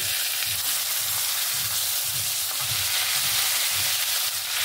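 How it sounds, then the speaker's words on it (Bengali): Fish sizzling and frying steadily in hot oil in a pan while being turned, a continuous loud crackle with soft rhythmic low thumps, no talking. "এই মাছগুলোকে উল্টে নেব।"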